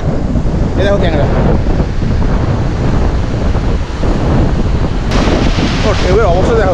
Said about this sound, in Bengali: প্রচণ্ড হাওয়া দিচ্ছে আর প্রচণ্ড ঢেউ